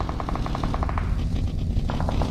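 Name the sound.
gunfire in PUBG Mobile video game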